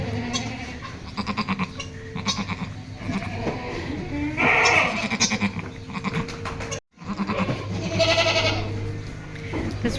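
Several bleats from a round white goat, close and fairly loud, in a busy outdoor farm scene with a brief drop to silence partway through.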